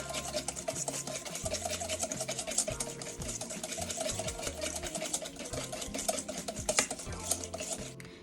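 Vegan brownie batter being stirred in one bowl, a steady, fast scraping and whisking against the bowl that continues throughout at close range, with no talk.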